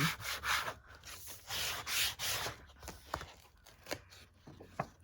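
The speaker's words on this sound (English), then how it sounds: "I'm going to really go over this with my squeegee, because I'm burnishing over a stencil." A squeegee burnishes paint over a stencil on a gelli plate, giving close rubbing and scraping strokes, broad swipes early on that give way to quieter, sparser scrapes and taps.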